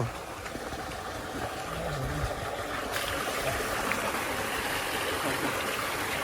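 Irrigation water from an opened tap rushes and gurgles steadily into a maize field, a continuous close flow with a faint engine-like hum beneath it.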